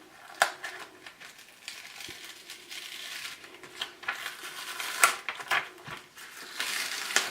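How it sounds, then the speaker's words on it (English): Glitter heat transfer vinyl being peeled off its backing for a Halloween shirt, with a soft continuous crinkling rustle and scattered sharp crackles and snaps as the sheet pulls away, close and fairly quiet. "I'm going to grab the corner here and just start peeling up. And the heat transfer vinyl really does just peel away so easily."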